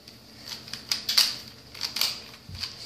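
A 3x3 Rubik's cube is scrambled by hand: quick plastic clicks and clacks in irregular bursts, fairly close and moderate in volume, with no talk.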